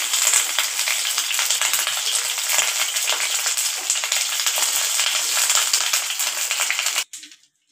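Coconut chhena paturi fries in a pan in a dense, steady sizzle with crackling pops, close and loud, running for about seven seconds before cutting off abruptly into near silence.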